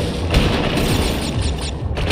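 Loud booming blasts in Crash Bandicoot N. Sane Trilogy's Tiny Tiger round, several heavy thuds in quick succession with a rumbling tail, alone with no talk.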